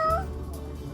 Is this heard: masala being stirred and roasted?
no